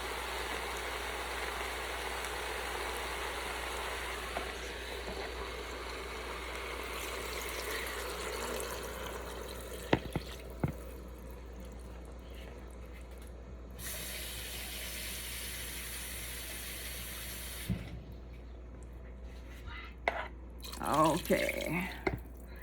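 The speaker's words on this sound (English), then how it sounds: "So you just need enough water or stock to cover the meat and the vegetables." Water or stock is poured into a cooking pot over meat and vegetables for a Japanese-style pork curry. A steady, soft liquid rush runs for several seconds, followed by a few drips and clinks of the pot, with a person talking over it.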